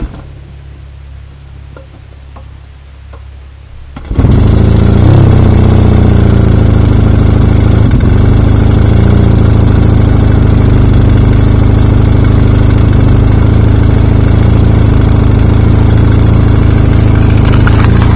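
A Yamaha XS650 motorcycle engine catches after a few seconds of quiet and settles into a loud, steady, close idle with a lumpy mechanical ticking beat that runs on without pause.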